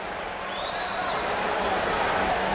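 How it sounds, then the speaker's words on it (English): A large arena crowd at a Boston versus Philadelphia indoor lacrosse game in 1996 roars continuously after a goal, a dense sustained cheer with a whistle-like tone rising through it. "Crowd cheers because that ball found the net."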